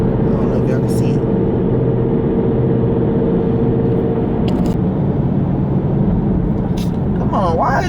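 A loud Ford Thunderbird car drives past, its engine a steady, heavy low rumble holding close and strong for the whole stretch, with brief higher noises breaking in near the end.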